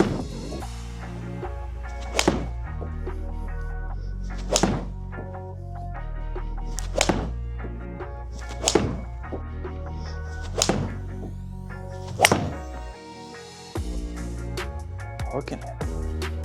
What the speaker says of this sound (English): I'm gonna hit 5 shots with each club